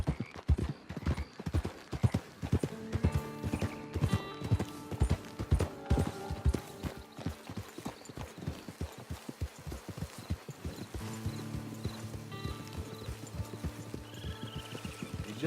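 Horse hooves clip-clop steadily in Red Dead Redemption 2, a brisk rhythmic walk-to-trot of close, crisp hoofbeats on hard ground with occasional music-like tones, lasting the whole stretch without talk.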